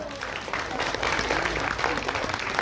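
An audience claps at a children's comedy play, with a short, moderately dense burst of applause heard from close by.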